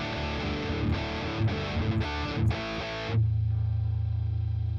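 An electric guitar through an amp on a crunch setting plays several punchy driven chord hits in a loose rhythm, then a sustained ringing low chord, loud and close.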